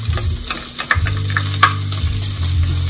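Carrots sizzle and are stirred in a stir-fry pan, a steady close frying hiss broken by scraping utensil strokes and small clatters, with no voices.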